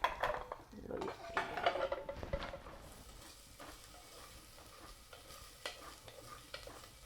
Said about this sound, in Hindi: तो अब मैं इसको फ्राई करूँगी।